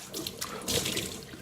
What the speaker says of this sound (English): I like to splash my face with cold water to wake me up